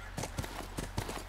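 Horse hooves clip-clop at a steady walking pace in The Last of Us video game, about six soft, evenly spaced thuds, quiet and close with nothing else over them.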